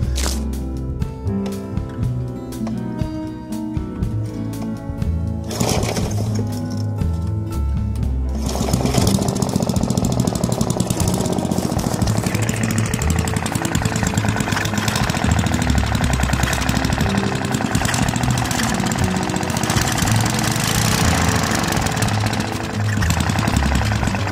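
A 3.5 hp Briggs and Stratton small engine, converted to horizontal mounting, sputters through a few uneven bursts and then settles into a loud, steady, rapid running clatter close to the microphone.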